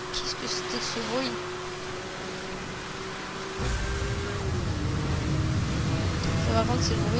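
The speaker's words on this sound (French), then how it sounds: "Ça, par contre, c'est le bruit de la nitro." Nitro boost kicks in on a car in Need for Speed Hot Pursuit, a steady engine drone that jumps to a louder, rougher rush about halfway through and holds there.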